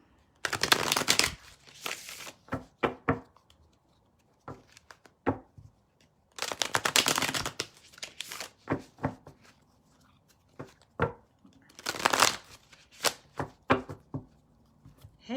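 Repeated rounds of tarot card shuffling nearby: three dense riffling bursts, each trailing into softer scattered taps and slides as the deck is squared.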